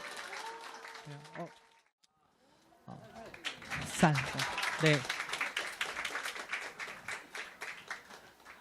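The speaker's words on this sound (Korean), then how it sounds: "박수 한번 주세요" Church congregation applauds after a pastor calls for it at a prize-giving event, the clapping building after a brief pause and filling the room, with a voice speaking over it near the start.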